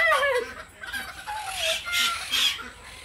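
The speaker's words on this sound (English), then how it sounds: "Is this a cockerel or a pullet? A young hen or a young rooster?" A young chicken, either a cockerel or a pullet, clucks and squawks close by in a short run of rising, wavering calls and sharp clucks, clear and fairly loud, with no talking.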